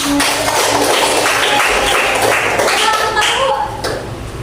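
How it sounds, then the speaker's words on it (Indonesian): A classroom of children claps together during an elementary science lesson. Loud, busy clapping mixes with voices for several seconds, then eases off near the end. "Berikan tepuk tangan"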